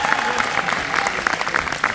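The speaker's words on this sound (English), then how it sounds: "Let's give her a round of applause." An audience applauds steadily and fairly close, with dense clapping that continues without a break for a couple of seconds.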